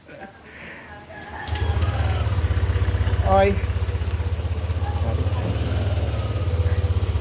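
A Yamaha Aerox V2 scooter engine idles after a camshaft bearing replacement, a steady low rhythmic putter that starts abruptly and runs on close by, with someone speaking briefly and a bird chirping over it.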